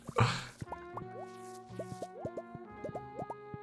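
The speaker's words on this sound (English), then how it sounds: "Thank you for the double mega fart" A double mega fart sound effect plays on a Stardew stream: a burst of noise, then a string of wet, squelchy plopping pops that sputter on and off for several seconds, fairly close and alone.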